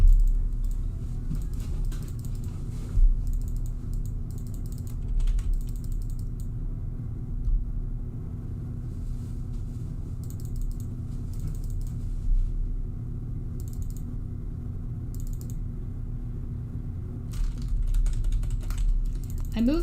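Computer keyboard typed on close to the microphone, with a long run of loud, busy clattering keystrokes in uneven bursts over a constant low rumble.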